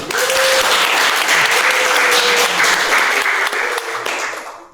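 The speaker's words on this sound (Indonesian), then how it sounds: "Kita beri tepuk tangan dulu." Loud, dense applause from a crowd, steady clapping that fills the whole stretch before tapering slightly at the end.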